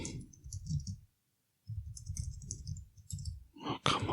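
Rapid computer keyboard typing during a Rust programming session, with bursts of clicky keystrokes separated by a brief pause and a small breathy sigh near the end.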